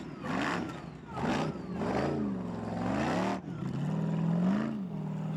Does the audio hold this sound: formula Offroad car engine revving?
yes